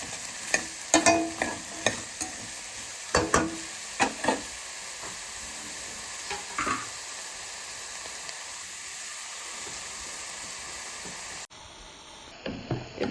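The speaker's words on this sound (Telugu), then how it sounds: "ఇప్పుడు అందులో కట్ చేసుకున్న బీరకాయ ముక్కలు కూడా వేసుకోవాలి. వేసుకుని అవి బాగా కలుపుకొని మగ్గనివ్వాలి." Chopped ridge gourd pieces cooking in a pan, a soft steady sizzle with a few sharp clatters of stirring early on, then quieter hissing that fades before a brief change in background near the end.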